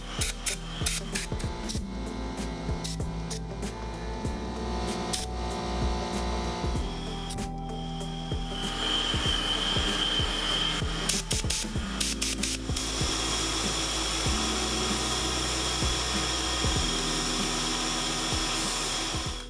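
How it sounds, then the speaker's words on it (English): A noisy 3D-printed vacuum with an air blower runs continuously, a loud steady rushing whir with scraping and rattling as it works, its tone shifting partway through. "It does work as a vacuum, although it's not super powerful, and I think that's the main problem. The air blower is super powerful"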